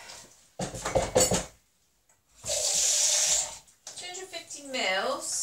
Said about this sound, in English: Adding 250 mils of water.